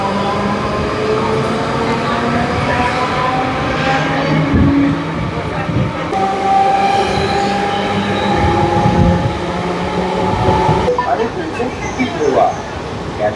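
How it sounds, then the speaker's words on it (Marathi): A 12-car slow Mumbai suburban local bound for Thane pulls out of Mansarovar station on the Trans-Harbour line, with a steady rumble of rolling carriages and rising wheel whine throughout, plus occasional clatter and squeal near the end. "मानसरोवर रेल्वे स्टेशनवरून आपण परत एकदा निघतोय."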